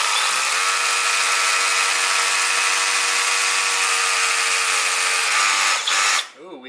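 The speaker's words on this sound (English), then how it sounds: "now I'm going to drill my holes with an awesome rotary hammer" A rotary hammer drills holes in concrete for workbench power conduit, a loud continuous buzzing hammering for about six seconds before cutting off, with a brief voice at the end.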